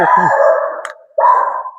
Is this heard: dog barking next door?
yes